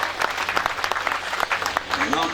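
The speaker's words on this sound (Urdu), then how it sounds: "بھرپور تالیوں کے ساتھ تشریف لاتے ہیں ریسپیکٹڈ سر" Audience applause welcoming a guest at a school sports gala prize distribution ceremony, a steady patter of clapping with faint voices mixed into the crowd noise.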